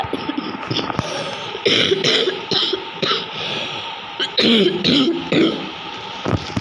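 Repeated coughing in short bursts, several hacking coughs spaced across the few seconds, fairly close and loud.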